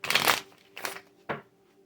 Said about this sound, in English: This deck does not want me to shuffle.